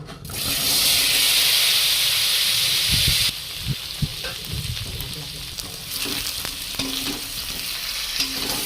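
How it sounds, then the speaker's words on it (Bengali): Potatoes frying in oil for a rohu fish, potato and cauliflower curry, a loud steady sizzle for about three seconds, then a quieter crackle broken by scraping and stirring knocks. "ভাজা তেলেতে আলুটা ভেজে নেব।"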